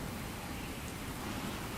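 Steady rain falling on the rainy shore area of the video game Meet Your Maker, a dense, even hiss that holds at the same level for the whole stretch with no other sounds on top.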